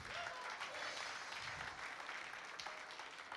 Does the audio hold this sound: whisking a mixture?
no